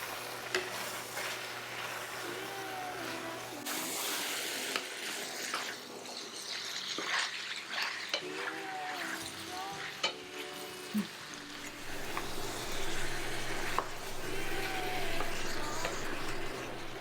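Beef and paste being stirred in a pot for Taiwanese beef noodle soup, a continuous close sizzle with scraping and clattering of a utensil against the pot throughout, no talk.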